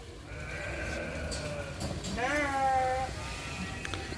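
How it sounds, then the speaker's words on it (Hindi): A sheep at an animal farm gives one wavering, drawn-out bleat at close range over steady background noise, with another fainter bleat before it. "ये देखें, आपने ज़िंदगी में ऐसी भेड़ें नहीं देखी होंगी"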